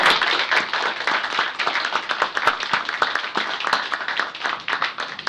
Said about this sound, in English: Let's give one more round of applause to the entire panel.